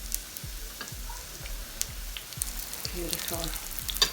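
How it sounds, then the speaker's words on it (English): Slices of bread fry in a pan for Hungarian-style French toast, a soft steady sizzle with small crackles and a brief spoken word. "So I'm gonna fry the bread on each side."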